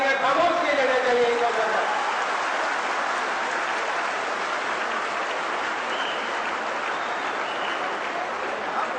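Sustained applause from a large audience at a public event in Ambikapur, dense and even, loudest at the start and then holding steady for several seconds.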